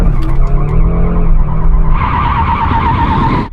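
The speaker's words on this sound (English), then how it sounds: "now let's get on with warming up our tires." Cars warming their tires before a drag race, with a loud, close tire squeal and engine roar sustained throughout, rising in pitch and intensity partway through before cutting off.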